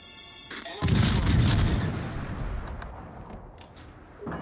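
Naval ship guns fire in World of Warships from a destroyer, San Martin, as one heavy booming salvo that rolls into a long rumbling decay, with a softer report near the end.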